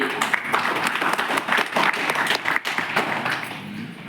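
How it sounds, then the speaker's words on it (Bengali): Audience applause at a Bengali gathering, steady dense clapping from a crowd that holds for about four seconds, moderately loud and fairly near, with some voices mixed in underneath. "আমি ওনার জন্য সজোরে একটা করতালি আশা করি"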